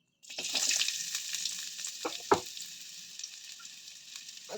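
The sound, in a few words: onion frying in oil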